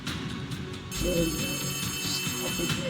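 A telephone rings in the Poppy Playtime Chapter 3 video game trailer, repeated bell-like trills over a murky background of music and effects, moderately faint.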